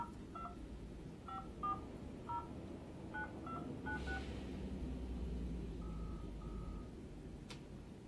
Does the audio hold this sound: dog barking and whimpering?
no